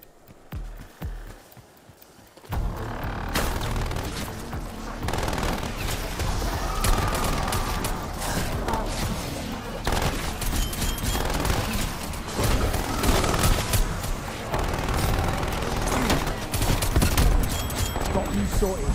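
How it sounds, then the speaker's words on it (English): Automatic sentry turret gunfire in Call of Duty Cold War Zombies Onslaught mode, a loud, dense stream of rapid shots and bursts running almost continuously after a quieter opening, mixed with busy game effects. "Sentry turret locked and loaded."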